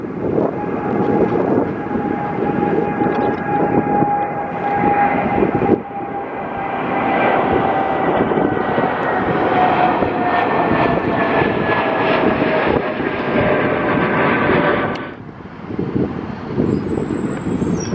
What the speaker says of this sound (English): Here we go then folks with the Singapore Airbus A350-900 off to Singapore of course.